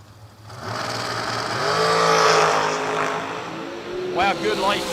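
A drag racing dragster engine roars at the racetrack, rising into a loud sustained blast that peaks and then tapers, while an announcer talks over it.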